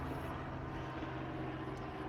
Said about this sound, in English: So I'm going to wait for this helicopter to go by.